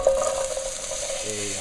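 Diced onions hit hot olive oil in a frying pan with a sharp initial hiss, then settle into a steady, close sizzle that continues throughout.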